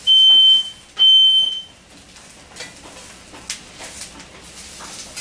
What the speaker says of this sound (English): It's not the first time I've let off a spiral alarm.